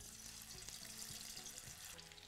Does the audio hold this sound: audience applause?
no